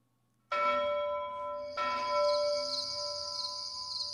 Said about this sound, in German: weil die Glocke geläutet hat